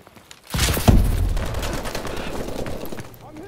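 A sudden burst of rapid automatic gunfire in a first-person shooter game rattles loudly and continuously, then tails off into echoing reverb over about three seconds.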